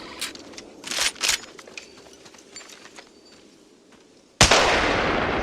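Gunfire in a video game shooter: a few quick distant shots and faint scattered pops, followed by a sudden loud close blast that rings on, with no speech heard.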